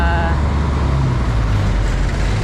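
Vehicles roll past on a road near an off-ramp, a steady loud wash of tyre and engine noise with a low rumble throughout and no break.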